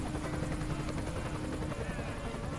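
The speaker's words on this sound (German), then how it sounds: "SEK-Heli, lande da." An SEK police helicopter lands in the video game Emergency 2016, its rotor thumping in a dense, steady drone that fills the whole stretch at moderate loudness.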